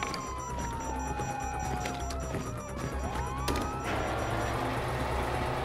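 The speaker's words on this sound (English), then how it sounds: "You hear that? Sirens!" Police sirens wail with rising and falling tones amid engine noise and chaotic sound effects in Grand Theft Auto V, loud and continuous throughout.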